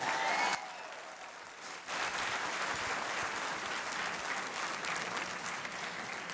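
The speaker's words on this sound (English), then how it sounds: "Give him a big round of applause." Sustained audience applause fills a storytelling workshop hall at a Toastmasters conference, a dense, steady wash of many hands clapping that dips briefly then swells again and carries on without talk.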